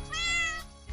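A cat gives a single clear, close meow, rising then falling, about half a second long, with no other sounds around it.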